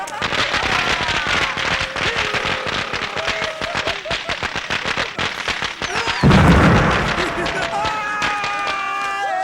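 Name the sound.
firecrackers being set off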